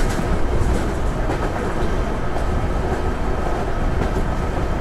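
Garib Rath Express train running on rails in Train Simulator Classic, a steady loud rumble with clattering wheel noise throughout, no voices.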